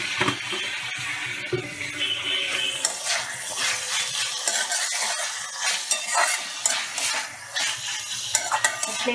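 Ash gourd and chickpea curry stirred over a high flame, a bright continuous sizzle with clinks and scrapes of a utensil against the pan, close and busy throughout.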